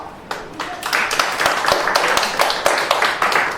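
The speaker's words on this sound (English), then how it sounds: "Let's hear it by applause if you or your family served in the Air Force" A live audience at an American Legion show claps for Air Force veterans and families, starting sparse and building into steady, lively applause with sharp individual claps.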